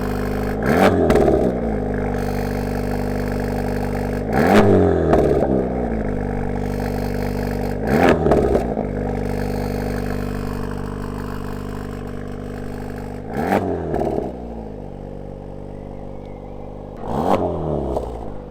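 Honda Civic Type R FL5 revving against its rev limiter, the exhaust valve audibly opening and closing: loud, close engine drone with five sharp rev blips spaced a few seconds apart.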